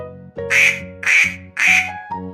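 Several loud, close quacking honks from geese in a group, three long nasal calls spaced about half a second apart with a shorter one at the end.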